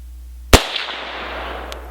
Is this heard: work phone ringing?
no